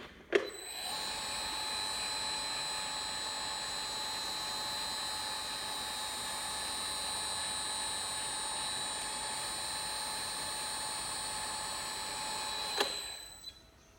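A double cut double face fabric opening sewing machine runs continuously on test fabric, giving a steady high mechanical whine that starts and stops cleanly, with no talk.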